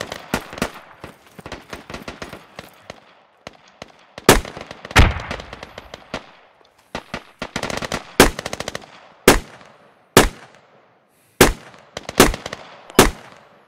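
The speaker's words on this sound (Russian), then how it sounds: "Меня стреляют. Сзади." Gunfire in the military shooter game Squad: repeated bursts and single sharp shots, some loud and close, others more distant, in irregular clusters with short pauses and no talk.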